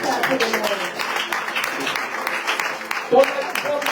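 A church congregation claps and applauds for the Lord during a French-language worship service, a steady crackle of many hands under a preacher's voice.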